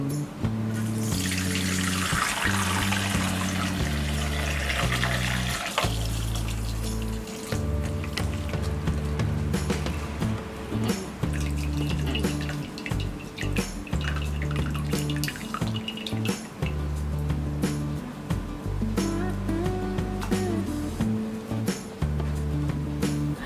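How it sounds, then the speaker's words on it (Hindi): Water from pressure-cooked dal pours and splashes through a strainer in a kitchen, a continuous loud rushing flow with shifting tones and occasional clatter, no voices. "पानी को हम स्ट्रेन कर देंगे।"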